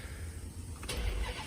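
A Dodge Magnum SRT8 with a Hellcat engine swap cranks briefly and fires up with a sudden burst, then settles into a rough rumble, recorded from close by.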